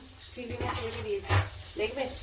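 Food frying in a pan for mixed fried rice and chilli chicken makes a soft sizzle and occasional stirring clatter, partly masked by a voice talking close by.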